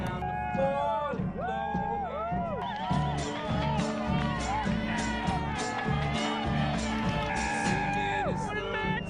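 Spectators at a cross-country race cheer and yell in a continuous dense roar, with whoops and shouts rising above the crowd noise throughout.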